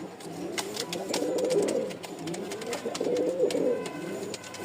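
Rajshahi Giribaz pigeons coo close by in two rolling, throaty bouts, each a soft, bubbling murmur that swells and fades, with faint rustling around them.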